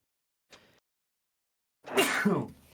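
A brief faint breath, a pause, then one loud sharp sneeze close by, trailing off quickly.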